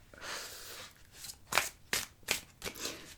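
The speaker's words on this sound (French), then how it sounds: "Alors, on va bien mélanger." Tarot cards being shuffled by hand, a quiet series of crisp riffling bursts spaced roughly every half second, close and alone with no talk.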